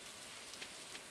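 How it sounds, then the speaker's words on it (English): Rain falls steadily in a video game as a faint, even hiss with a few soft droplet taps and no voices. "it's raining"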